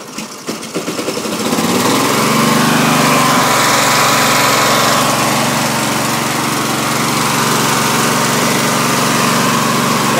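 A small tractor engine sputters a few times, catches, and settles into a loud, steady running drone close by, with no voices.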